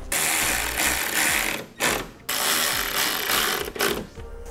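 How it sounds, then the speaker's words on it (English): Bolts are driven with a ratchet to mount a Derale Series 8000 plate-fin transmission cooler, sounding as rapid close clicking bursts separated by short pauses. "Now let's put a couple bolts in it to hold it there."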